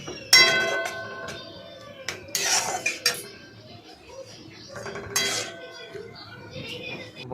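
A spoon clanks and scrapes against a cooking pot as boiled lentils are stirred into jute leaves for patpata dal, giving irregular metallic clinks and knocks with quieter gaps between them.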